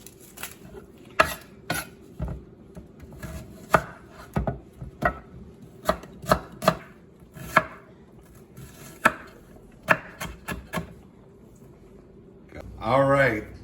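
A kitchen knife dices a medium yellow onion on a cutting board, with sharp, close, irregular chops and a softer scrape at the end, under a speaking voice.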